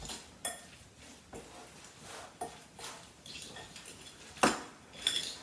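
Tuna melt filling is mixed with sweet green relish in a bowl, with repeated close scraping and clinking of a utensil against the dish and one sharper clank near the end.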